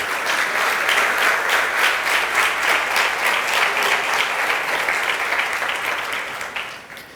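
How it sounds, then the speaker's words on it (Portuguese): Worshippers at a Sunday morning church service applaud together in a strong, unbroken round of clapping that tapers off near the end. "eu queria que você aplaudisse e glorificasse o nome do Senhor"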